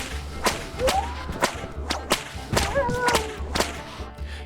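A whip in the Call of Juarez western shooter cracks about eight times in quick succession, each snap crisp and near, with a faint whistling squeal between some strikes and a low background hum.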